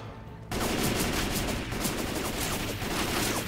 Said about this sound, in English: I'm kind of liking this shotgun.